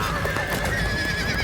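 A horse gives a loud, close neigh and whinny over clopping hooves in a dramatic battle scene.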